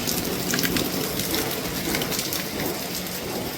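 Steady, heavy rain pours down in a constant wash of hiss and patter, loud and close, with no voices.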